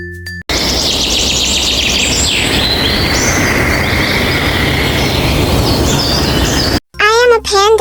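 Busy chorus of birds chirping and twittering continuously, with repeated whistled calls over a dense background; a voice speaks briefly at the start and end.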